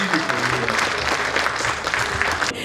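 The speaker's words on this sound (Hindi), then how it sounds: "आपकी तालियों में ऊर्जा दिखनी चाहिए जो कि नहीं दिख रही है" Audience at an award ceremony for a literary society applauding, a continuous loud clapping wash filling the whole moment.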